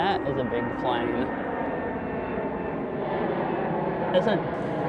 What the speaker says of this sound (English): Oh, that is a big plane.